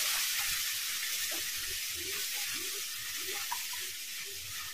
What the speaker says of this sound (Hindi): और थोड़ा सा पानी डाल के मसाला को भुनेंगे।